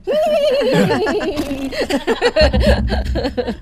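A horse-neigh sound effect plays on a radio show as a loud, close, wavering whinny. It is followed by chuckling and a low rumble.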